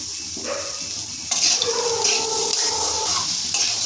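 Soaked ivy gourd (kundri) being stirred in a frying pan over a medium flame: a close, loud scraping and sizzling that grows busier partway through, with no voices.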